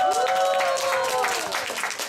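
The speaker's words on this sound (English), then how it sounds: "can we give Olivia a round of applause?" An audience claps for Olivia at a conference session, a dense, steady round of applause throughout, with a loud tonal hum or music layered over it.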